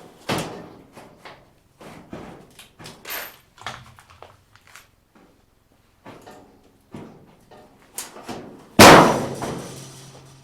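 Scattered clicks and soft knocks lead up to one loud, solid slam of a hot rod truck door near the end.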